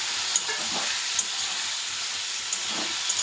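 Potatoes and onions frying together in a pan give a bright, steady sizzling hiss with faint stirring scrapes and small taps throughout.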